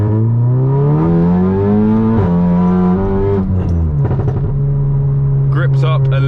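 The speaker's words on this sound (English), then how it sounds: "Let's get another second gear pull on down here." A Stage 3 VW Golf R of about 500 bhp pulls hard through second gear on a winter drive, its engine note climbing loudly and steadily before a shift, with a driver talking over it.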